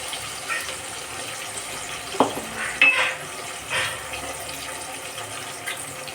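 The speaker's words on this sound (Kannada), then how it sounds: "ಸೋಯಾ ಚಂಕ್ಸಿಗೆ ಉಪ್ಪು ಹಾಕಿದ್ವಿ ಫ್ರೈ ಮಾಡುವಾಗ" Soya chunks frying with spices and tomato in a pan: a continuous soft sizzle with a few scraping and clinking stirs against the pan, and no talk.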